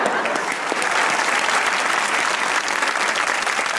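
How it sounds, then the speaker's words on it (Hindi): An audience at a talk show applauds warmly and continuously, a close, full burst of many hands clapping that stays strong from start to finish without anyone talking. "इनके लिए भी तालियां बजाऊंगा मैं"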